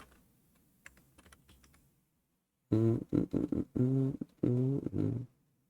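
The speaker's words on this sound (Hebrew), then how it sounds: "סוויצ'ים מגנטיים לינאריים, מדגמים חדשים." Keyboard typing: a faint patter of light key presses, then a loud close burst of rapid, smooth keystrokes in quick clusters before stopping.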